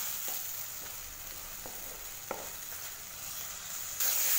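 Coarsely ground tomatoes sauté in hot oil in a pan, a soft steady sizzle with faint occasional stirring clicks, growing louder and brighter near the end.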